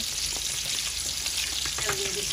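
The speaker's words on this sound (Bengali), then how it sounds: "চিংড়ি মাছ ভাজি করার জন্য, তেল দিতে আছে।" Oil heating in a pan for frying prawns gives a steady broadband sizzle with a faint hiss, constant and close throughout, with a brief tonal clink near the end.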